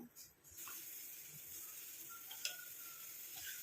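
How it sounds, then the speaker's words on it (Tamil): A steady hiss and bubbling sizzle of a homemade hair dye mixture boiling in an iron pan, continuous and close, with a few small pops. "இப்போ பாருங்கள் நல்லா கொதிக்க ஆரம்பிக்குது"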